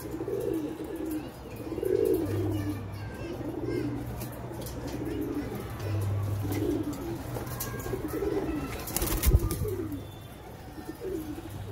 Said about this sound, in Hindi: पट्टे छत पर ये दो जोड़ कबूतर का वीडियो बना रहा हूँ मैं